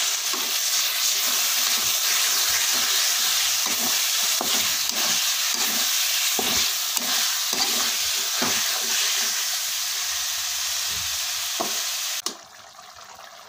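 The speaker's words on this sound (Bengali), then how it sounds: "মশলা কষা হয়ে গেলে তাতে মাছ দিয়ে মাছটা কষিয়ে নিচ্ছে" Fish sautéing in spice paste in a pan sizzles loudly and steadily up close, with a spatula scraping and stirring in an uneven rhythm before the sizzle suddenly drops away near the end.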